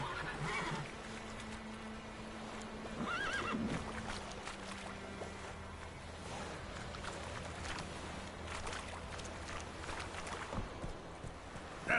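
Roach, the horse in The Witcher 3 video game, whinnies and trots, with a neigh over rhythmic hoof clops and shifting game sounds behind them.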